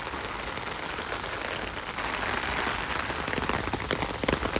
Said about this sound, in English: I'm struggling to talk over the rain right now.